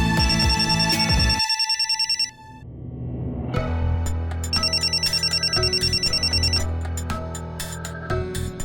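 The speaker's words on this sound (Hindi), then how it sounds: "किसका फोन आया है?" A telephone rings indoors, sounding repeated bell-like electronic tones in bursts, pausing briefly, then ringing on again loud and close, with no talking over it.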